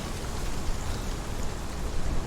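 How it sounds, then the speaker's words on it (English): Steady rain falls in Hellblade: Senua's Sacrifice, a soft, even hiss of drops on surfaces with no voices over it. "The rain."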